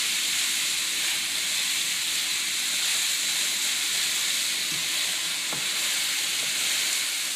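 Ground beef browns in a pan over medium-high heat, giving a steady, even sizzling hiss that runs unbroken throughout.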